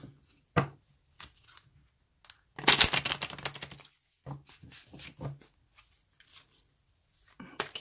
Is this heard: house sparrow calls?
no